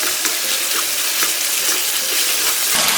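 Fresh squid is stir-fried in a hot pan with sugar and seasoning, giving a loud, steady hissing sizzle throughout with faint stirring and no talking.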